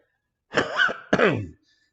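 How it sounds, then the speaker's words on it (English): A person clears their throat in two short, gravelly bursts, close and fairly loud, followed by silence. "Clear my throat."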